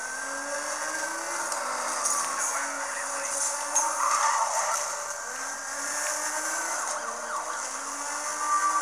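Police sirens from a car chase in Need for Speed Most Wanted wail steadily in rising and falling sweeps over a constant roar of engine and road noise, with police cars close by.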